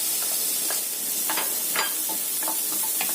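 Garlic and shallots sauté with carrots in margarine, giving a close, steady sizzle broken by light scraping and clicking as the pan is stirred.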